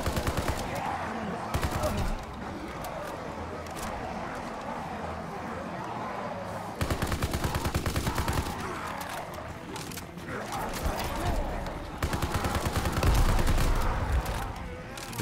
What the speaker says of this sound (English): Did not mean to shoot that.